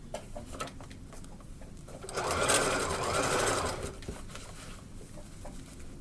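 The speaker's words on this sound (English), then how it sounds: "So I'm gonna sew across here, and I'm not gonna sew where the square part is." A sewing machine stitches across a fabric bucket shoulder bag, its motor whirring steadily with a brief louder burst of fast stitching in the middle, close and alone with no talk.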